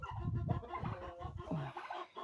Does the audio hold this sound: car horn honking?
no